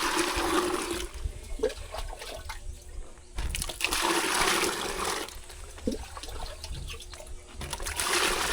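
Water being fetched from a source behind a house in the Philippines, trickling and splashing steadily in a near, continuous flow with brief louder surges, no talking.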